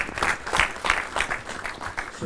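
An audience at a gathering claps in warm, continuous applause for members of an association, with uneven bursts of hand claps rising and falling close by.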